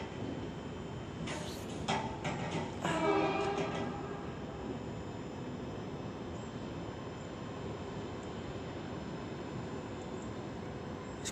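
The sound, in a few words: trains passing near depot in Ilford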